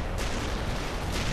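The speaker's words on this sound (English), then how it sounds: "Oh shit, my rocket artillery it's too close." Rocket artillery firing in the real-time strategy game World in Conflict: a loud, dense roar of launches and blasts that fills the whole moment, with two sharp bursts standing out against the continuous rumble.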